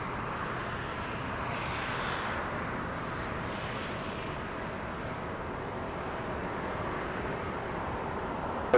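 An airliner takes off from runway 25 right at Los Angeles International Airport, heard as a steady broadband engine roar from some distance, even and sustained with no distinct peaks.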